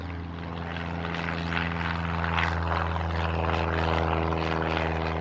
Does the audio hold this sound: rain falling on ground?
no